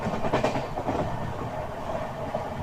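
A train runs on parallel tracks with a steady, close rumble and a faint rhythmic clatter of wheels over rail joints, with no voices.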